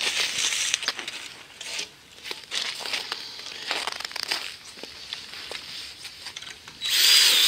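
Wood screws are driven with a power drill into a timber greenhouse frame with reinforced corner brackets, giving uneven whirring bursts and brief pauses, with a sharper, louder whine at the very end and no speech.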